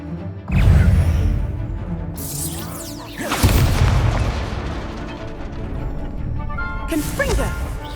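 Confringo blast spells exploding in Hogwarts Legacy, two loud booming impacts a few seconds apart with crackling debris and a swishing cast near the end, amid combat noise.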